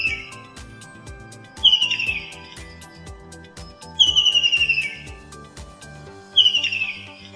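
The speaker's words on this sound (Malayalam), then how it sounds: "പ്രജനനകാലത്ത് ഇവയുടെ ഉച്ചത്തിലുള്ള ശബ്ദം സർവ്വസാധാരണയാണ്." A tree kingfisher gives loud breeding-season calls while perched, three bright, descending whistled trills spaced a couple of seconds apart, against soft background twittering and faint knocks.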